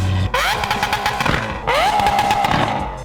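A loud, close McLaren 765LT engine revs hard twice, each time climbing in pitch and then holding a raspy, roaring high idle.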